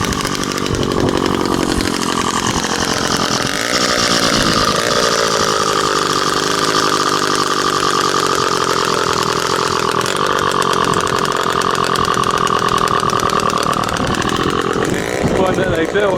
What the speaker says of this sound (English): The guy's got a massive old chainsaw going.